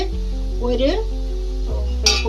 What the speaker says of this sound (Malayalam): ഇപ്പോൾ സവാള മൂത്ത് ശരിയായി വന്നിട്ടുണ്ട്.